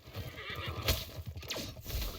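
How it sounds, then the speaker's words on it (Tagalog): A horse neighs and whinnies in a video game, with clip-clop hoofbeats underneath; the whinny peaks about midway through, and a second shorter neigh follows near the end. "Napasakay ako sa kabayo."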